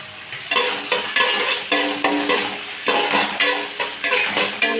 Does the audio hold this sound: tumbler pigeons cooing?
no